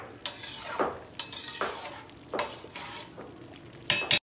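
Spoon scraping and clanking against a pot while stirring chicken white korma gravy, several rhythmic strokes with metallic knocks, close and clear, with faint sizzling beneath.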